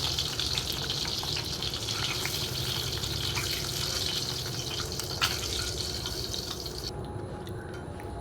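Duck eggs frying in hot oil in a pan, a steady, close sizzle with bubbling crackle that runs on without pause, with no voices over it.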